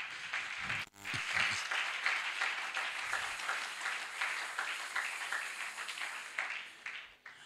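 A church congregation at a Pentecost service breaks into sustained applause, a dense roomful of clapping that swells and holds for several seconds before tapering off.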